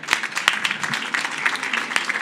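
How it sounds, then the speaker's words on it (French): Audience applause after a panel talk on the energy transition in Île-de-France, a short burst of scattered hand claps at moderate distance with no talk over it. "On peut vous applaudir aussi."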